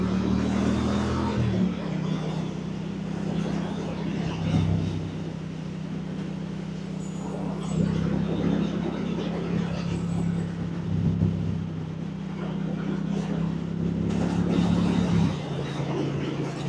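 A motorcycle without a windshield rides at highway speed of about 60 mph in fourth gear, giving a steady engine drone under heavy wind rush, with small shifts in pitch along the way and no talking.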